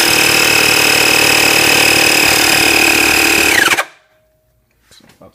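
A bike tire pump with a small psi gauge inflates a tire on a vintage Panasonic bicycle up to about 60 psi, giving a loud, steady mechanical whine with a rising tone that stops abruptly, followed by near silence and faint handling clicks.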